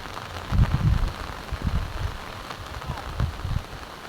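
Steady typhoon rain patters on a surface nearby, a dense even hiss with soft thumping drops, no voices.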